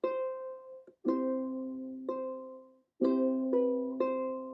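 A ukulele in a lesson plays a few picked single notes and then rings out full chords, five or six clear plucked attacks that sustain and fade, close and alone without speech.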